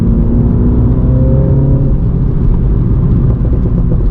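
A MINI JCW F56 on its stock exhaust revs in sport mode, its engine note loud, close and steady, with a rising, harmonic-rich drone and a continuous rumble that carry through the whole stretch without any voices.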